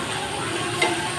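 Steady sizzling of shrimp frying in hot oil, a soft continuous crackle with one small pop near the end.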